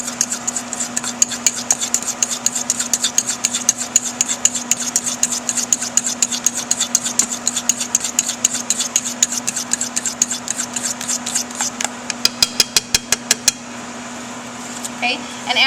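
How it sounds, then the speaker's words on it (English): A fork whisks onion ring batter in a bowl, making a rapid, steady run of close clicking taps for most of the time before slowing into a few scattered strokes, over a faint constant hum. "you're going to go ahead and whisk all of these ingredients together"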